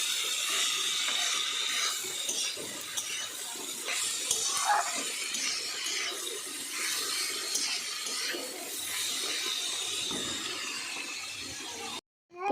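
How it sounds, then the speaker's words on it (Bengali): Cabbage fries in a pan with Bengali five-spice tempering, a steady moderate hiss and sizzle with occasional crackles that stops abruptly near the end. "আর এদিকে দেখো এখানে 5 ফোড়নে দিয়ে বাঁধাকপিটা দিয়ে দিলাম।"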